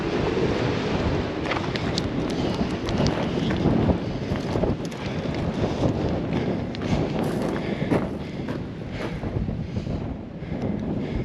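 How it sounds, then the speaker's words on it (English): Strong wind in the Las Vegas desert buffets the microphone as a continuous, loud, rumbling roar with gusty swells throughout and no speech. "A lot of wind today, a lot of wind."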